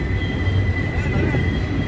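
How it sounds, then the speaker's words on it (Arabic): A tram rumbles steadily across a large bridge in Istanbul, loud and close, with a thin high metallic wheel squeal drawn out over the low rolling noise. "فيه الترام"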